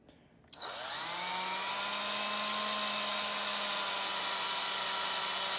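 A power drill starts up abruptly, drilling an acrylic keychain, and holds a high, steady whine with a bright tonal pitch, close and loud, with no voices.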